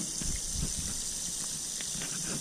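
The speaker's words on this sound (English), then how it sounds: "the water is still running out of this tank" Water gushing steadily out of a residential pressure tank under air pressure, a continuous hissing rush with a few gurgling splashes, close and moderately loud throughout.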